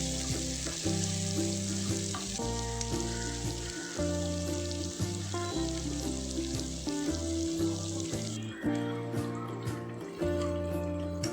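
Chopped small onions sauté in a pan for fish curry, a soft continuous sizzle heard faintly beneath steady instrumental background music with a regular beat.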